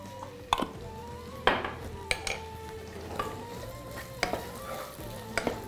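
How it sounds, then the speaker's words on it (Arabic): Food, likely onion with two garlic cloves and salt, sizzles quietly in a pan as a utensil scrapes and clinks against it in irregular stirring strokes, close by, with no voices. "نقلب فيه لغاية ما يدبل"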